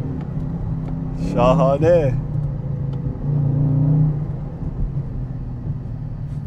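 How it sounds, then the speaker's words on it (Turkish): A 2021 Dodge Charger Scat Pack in sport mode accelerates with a steady low engine rumble and a swelling surge of revs, while a voice speaks briefly over the engine noise. "Sürüşümüzü spor modunda başlatalım. Ve hızlanmayla."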